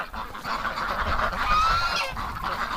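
Geese honking in and around a farm barn on a wet winter day, a steady chorus of overlapping nasal calls with a few louder, rising honks, fairly close and without talk.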